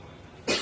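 One short, sharp cough bursts out at the end of the clip after near silence, close and fairly loud.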